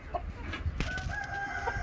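Ornamental roosters, one blue mottled, crow with a sustained, wavering call, mixed with short clucks from nearby hens over a steady background hum.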